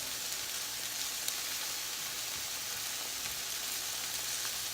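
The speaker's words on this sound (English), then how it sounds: "we're gonna use a little powdered garlic, and we're gonna stir that up" Powdered garlic is stirred into a hot pan, giving a steady, even sizzle of frying throughout, a dense hiss with no talking and only faint scraping.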